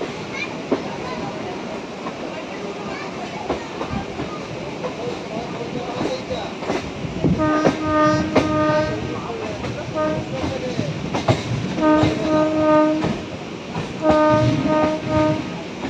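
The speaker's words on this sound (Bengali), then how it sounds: "আরও একটি স্পেশাল ট্রেন বেরিয়ে যাচ্ছে তারকেশ্বর স্টেশন থেকে।" A special train pulls out of Tarakeshwar station during the Shravani Mela, its wheels rumbling and clattering nearby as the horn sounds in three loud, sustained blasts.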